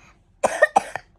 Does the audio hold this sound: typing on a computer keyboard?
no